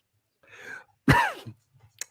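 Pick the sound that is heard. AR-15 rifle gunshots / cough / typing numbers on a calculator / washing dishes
cough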